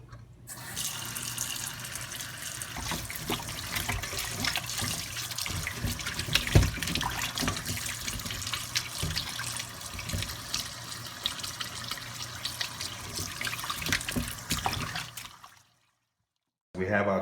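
Tap water runs steadily over turkey necks being rinsed in a sink after a salt and apple cider vinegar wash, a continuous close splashing stream with small clatters, stopping abruptly near the end.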